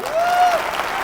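A brief burst of audience applause at an Achievers Day awards event, a dense patter of clapping with a faint whistle-like tone rising over it.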